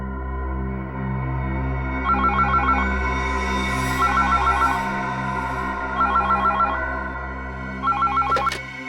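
A telephone rings loudly in repeated trilling bursts over a steady low tonal drone, with no talking.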